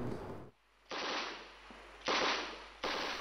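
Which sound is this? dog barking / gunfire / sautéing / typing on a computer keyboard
gunfire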